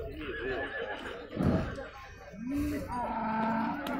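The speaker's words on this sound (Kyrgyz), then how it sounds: "1 жаштагы эркек тай." A horse whinnies with a rising, wavering call amid a noisy outdoor livestock scene, with people talking nearby.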